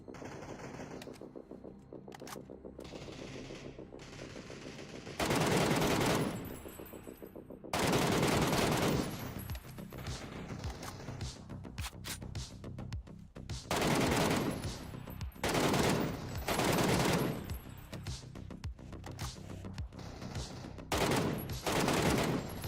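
Repeated bursts of DMR rifle fire with a compensator in PUBG, loud close shots in quick follow-up strings separated by short pauses, with game background noise between volleys.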